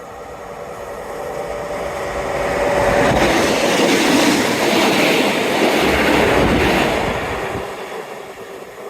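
A train rumbles past nearby, a smooth rushing roar that swells to a peak in the middle and fades away, with faint rhythmic clatter.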